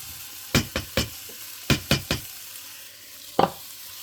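Browned onion and 20 dekagrams of machine-sliced ham fry in a pan under a low sizzle, punctuated by a series of knocking clatters as a utensil turns the mixture, then a final louder scrape.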